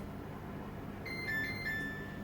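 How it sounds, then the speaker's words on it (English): A kitchen oven timer rings during pumpkin baking, giving a short electronic tone that sounds twice near the end over a quiet room hum. "The buzzer is ringing."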